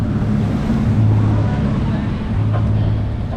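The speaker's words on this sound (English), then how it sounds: "Pretty windy down there." Strong wind buffets a sailing boat at sea, a loud rumbling roar with gusty low-frequency hum and blustery microphone noise throughout, steady and close.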